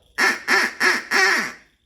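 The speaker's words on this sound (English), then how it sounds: "Duck call." A duck call blown as a percussion instrument gives four loud, close, nasal quacks in quick succession, the last one held slightly longer.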